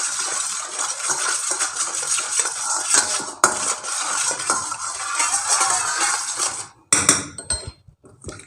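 Chicken drumsticks in a salt and vinegar marinade being mixed in a bowl, with a dense, continuous clatter of utensils scraping the dish that stops abruptly before a few final knocks.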